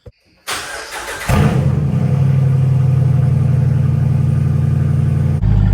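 Jeep Wrangler with a big lift and large tires cranking and firing up, followed by a loud steady idle close by as it begins creeping slowly into a standard garage.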